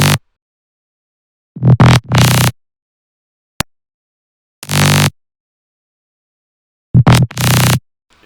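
Gritty bass synth patch built in Serum, playing as several short sustained bursts with silent gaps between them, one brief click in the middle, close and loud with no voices.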